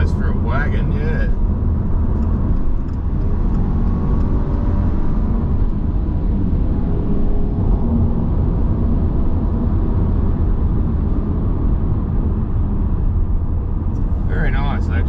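A 2022 Subaru WRX Wagon's engine pulls hard under acceleration, a loud, continuous rumbling drone with road noise from start to finish, and brief voices at the very beginning and end.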